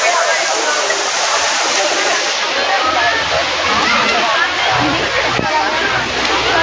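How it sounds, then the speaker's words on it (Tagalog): Bulinaw Falls in Pangasinan roaring steadily, a loud, dense, unbroken rush of falling water filling the whole scene from close by. "Ang ganda ng falls."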